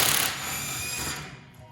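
A power tool with a 3/4 inch socket loosens the right rear wheel on a Harley-Davidson Tri Glide trike, giving a short loud burst of mechanical rattling that settles into a steady whir and fades out.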